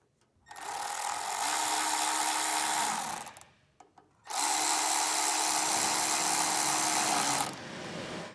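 Power tool driving bolts back in during a Hellwig front anti-sway bar install on a 2011 Ford F-150, two long steady whirring bursts with a short pause between, loud and close with no talking.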